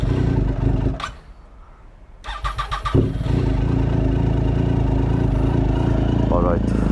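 A Triumph Street Triple 675 motorcycle with about 13,875 km is cold started on a freezing, foggy morning: a short starter whirr, a sputtering catch, then the triple engine settles into a loud, steady idle close by.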